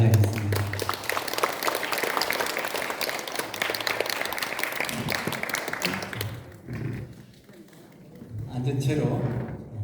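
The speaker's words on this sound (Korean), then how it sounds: "박수로" Audience applause at a Buddhist dharma assembly welcoming its leader, a dense burst of clapping for about six seconds that fades, then lighter sounds with voices.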